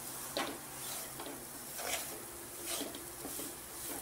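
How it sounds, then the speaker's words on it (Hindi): Gram flour and wheat flour dry-roast in a pan for atta besan ladoo. Soft rhythmic stirring scrapes and a faint crackle repeat every second or so, close and steady, with no voices. "अब इसे 1-2 मिनट तक भूनेंगे।"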